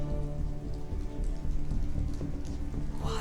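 Steady rain falling on a surface, a dense even patter of drops at moderate level throughout, with no voices.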